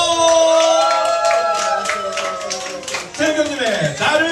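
Audience clapping and cheering for an encore song at a community karaoke concert, a busy crowd sound mixed with music and voices over about four seconds.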